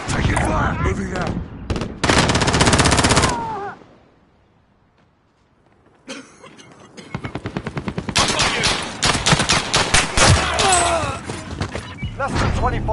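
Bursts of rapid machine-gun fire and dense gunshots from Call of Duty Modern Warfare crackle loud and close. A brief lull with faint distant shots follows, then heavy sustained firing resumes with thuds.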